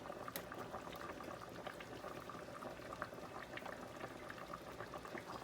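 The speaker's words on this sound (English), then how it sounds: "Sorry, I'm just listening and I can hear it boiling." A pot of artichokes boils steadily on a home stove, giving a continuous close bubbling and churning with small pops throughout, no voices present.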